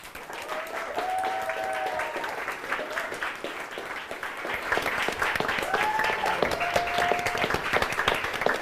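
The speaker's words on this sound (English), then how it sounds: "Now it is time to bid farewell to Galivor. Round of applause." Applause from an audience bidding farewell to the departing character Galivor at a live tabletop roleplaying show, a sustained wash of clapping that swells louder midway, with faint voices and tonal cheers threading through it.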